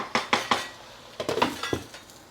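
A spoon clinks and scrapes against a pan while stirring prawn and tamarind leaf curry as it fries, with several sharp metallic knocks in uneven bursts close to the mic and only a faint sizzle underneath.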